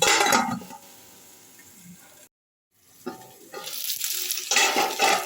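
Taro (kochu) chunks frying in hot oil in a pan and being stirred, with loud sizzling and clinking bursts at the start and end around a brief silent gap.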